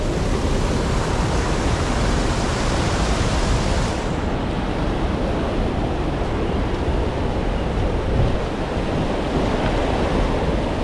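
A strong current of water rushes over falls, a loud, dense, unbroken roar of churning water heard up close.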